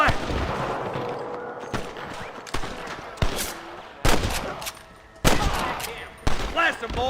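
Wild West shootout in Red Dead Redemption: sharp, loud gunshots crack out one by one at irregular intervals over a low rumble, with shouting voices in between.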